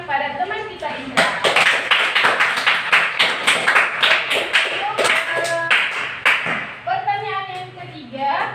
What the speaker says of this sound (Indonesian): Beri tepuk tangan kepada teman kita Indra.